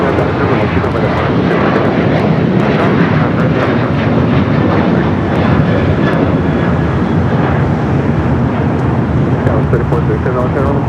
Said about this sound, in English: Emirates is arriving here at its normal time